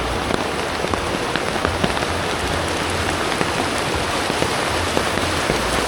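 Steady rain falls over the Himalayan village of Naddi in Himachal, a dense continuous patter of drops on surfaces, close and even throughout with no voices.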